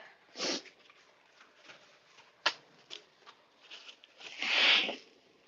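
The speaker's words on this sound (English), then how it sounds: "So sorry if you can hear me blowing my nose." Close, breathy nose blowing from allergies comes in two bursts, with soft rustling and sniffling in between; the second blow is longer and louder.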